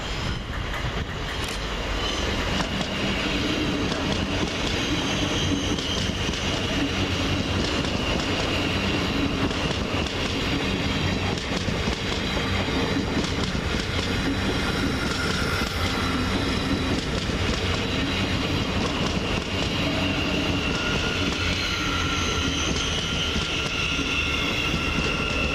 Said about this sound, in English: Over on the far side, arriving to terminate with a Greater Anglia service from Ipswich is 755-325